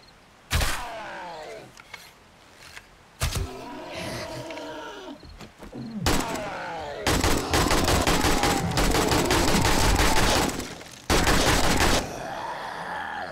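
AK rifle gunfire in 7 Days to Die during an insane-difficulty night infestation: sharp single shots, then a long sustained stretch of rapid automatic fire, mixed with snarling creature roars.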